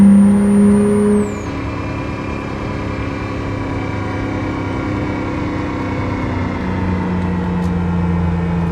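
A BMW M4 G82 Competition (2022) engine in Euro Truck Simulator 2 drones steadily at cruising speed, a continuous low hum with faint tonal layers after a brief louder opening.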